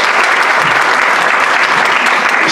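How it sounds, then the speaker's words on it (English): Loud, dense applause from a festival audience at a storytelling slam, a steady wash of many hands clapping at once without a break throughout. "Give her a big round of applause."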